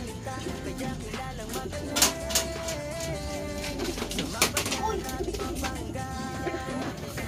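Racing pigeons coo softly and repeatedly in a loft, with scattered flutters and clicks over a steady background hum and a voice speaking faintly at times.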